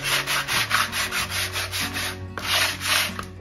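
Sandpaper rubs rhythmically back and forth over the wooden hull of a Santísima Trinidad ship model in quick, even strokes, close and scratchy, with a brief pause before the strokes resume.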